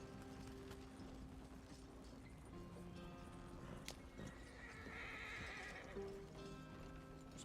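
Horses in the Red Dead Redemption 2 video game, with hooves clip-clopping steadily, a few whinnies and neighs, and faint creaking of harness and wagon gear under a quiet ambient bed.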